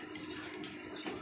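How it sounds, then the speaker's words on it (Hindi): Water poured from a bottle trickling and leaking through a cracked cooking pot, a faint, steady close splashing over a short moment with no voices. "अब हम बोतल से पानी करके दिखाएंगे, इसमें लीक"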